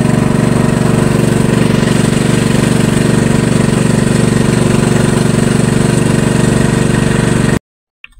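A motor boat engine runs on Laguna de Bay, a loud, close, steady drone that holds unchanged for several seconds before cutting off abruptly.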